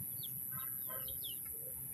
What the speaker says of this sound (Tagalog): Laking ibon yun ah.